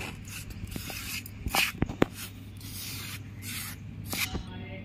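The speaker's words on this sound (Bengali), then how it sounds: "ভালো করে আমি সব মিশিয়ে নিচ্ছি।" Hands mixing bread dough ingredients, yeast and packet milk, together in a bowl: soft, continuous rubbing and rustling with a few light knocks, faint and close.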